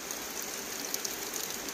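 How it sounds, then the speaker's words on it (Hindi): Rain starting to fall at night in a Punjab village in Pakistan, a steady soft hiss with scattered faint drop ticks, continuous and fairly quiet, no voices. "3:30 बजे का टाइम है और बारिश स्टार्ट हो गई है"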